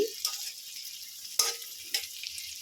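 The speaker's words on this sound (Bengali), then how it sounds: "বন্ধুরা ঘিয়ের মধ্যে একটু ভাজা করে নিচ্ছি" Steady sizzling of cashews and raisins frying in hot ghee, with a few scraping stirs breaking through the crackle.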